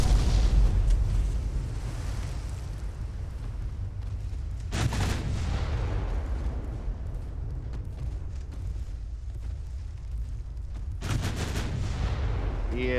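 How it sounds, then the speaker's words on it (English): Naval battle in Ultimate Admiral: Dreadnoughts, with a loud, deep torpedo detonation rumbling throughout, punctuated by two sharp blasts around five and eleven seconds amid continuous low booming. "Oh, torpedo detonation."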